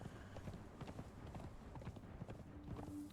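Horses in the game Conan Exiles, hooves clip-clopping in an irregular, fairly close rhythm of steps over a quiet outdoor backdrop, with no one speaking.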